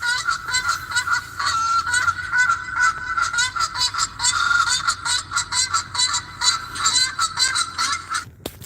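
Geese honk repeatedly in a loud, close series of nasal calls, several birds overlapping in an uneven rhythm that continues for about eight seconds before stopping abruptly.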